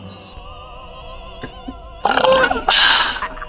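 A woman lets out two loud, drawn-out belches in quick succession after a brief quiet stretch with a faint tone in the background.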